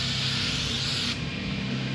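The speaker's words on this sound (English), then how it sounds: "A little bit of spray foam. Hope I got enough left. Can's getting kind of empty." Expanding foam sprays from a nearly empty can during dash and windshield work on a Firebird, a harsh close hiss lasting about a second before cutting off, leaving a low background hum.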